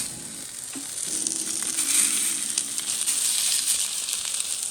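Cabrilla fish fillets topped with Parmesan fry in oil with a continuous bright sizzle. It holds steady and close, swells slightly midway, and a faint low hum runs beneath it.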